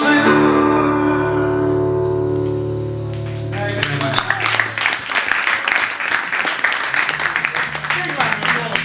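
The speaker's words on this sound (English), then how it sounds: "Big round of applause for that." At a lunchtime gig at Weston College, a live band's final sustained chord rings out and fades, then the audience breaks into steady, fairly close applause that carries on to the end.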